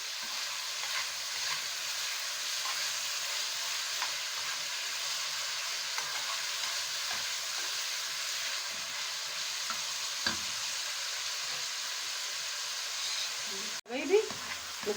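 Alexandrian-style liver sizzles in hot oil with salt, cumin and dried coriander, a steady close frying hiss with occasional light stirring scrapes and a sharp clatter near the end.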